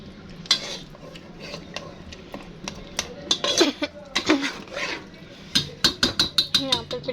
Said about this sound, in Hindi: बिरयानी में मसाला मैंने डाल दिया है, अब इसे भून रही हूँ।